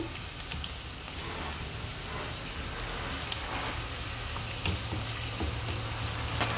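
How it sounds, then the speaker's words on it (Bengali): Black cumin and cumin seeds fry in hot oil for a dal tempering, giving a steady, close sizzle with faint crackles and light stirring throughout. "দিয়ে দিচ্ছি একটু কালা জিরা, জিরাটা এটার সাথে ভেজে নিব।"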